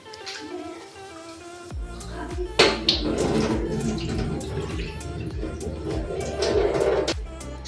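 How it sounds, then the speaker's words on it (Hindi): Rice being washed in water while making kheer in a home kitchen, with a run of splashing, sloshing water and handling sounds that swell after a brief quieter start and carry on steadily to the end. "ये देखो चावल का पानी एकदम साफ़ हो गया है, मतलब इतना मैंने धुल लिया कि पानी साफ़ हो गया है।"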